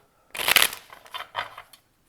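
Tarot cards riffled and shuffled by hand in a few quick bursts, the first louder and crisper, followed by two softer shuffling passes, close and with no voice over them.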